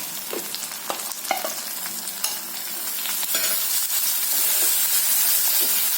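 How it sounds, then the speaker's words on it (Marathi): Onion, garlic and chopped tomato sautéing in an iron kadhai: a steady close sizzle and hiss with scraping stir strokes, rising into a fuller, louder frying wash toward the end, with no talk. "छानस परतून घ्यायचंय"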